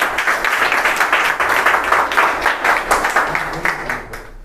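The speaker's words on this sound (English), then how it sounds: "So please clap for our brave girl Nupur Goyal." A student audience at an English public speaking championship applauds a speaker with steady, dense clapping from many hands that swells and ebbs for several seconds, near and loud, with a voice faintly under it.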